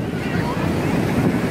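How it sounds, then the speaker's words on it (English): Ocean waves wash onto a beach in a steady, loud roar with wind buffeting the microphone, the surf noise continuous and close throughout. "Why are you so scared of the waves?"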